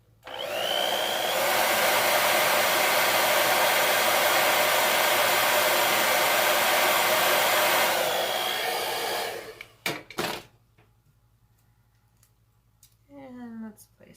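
A hair dryer runs loud and steady for about nine seconds, blowing on a craft letter, then cuts off; a few short clatters and brief speech follow in the quiet after.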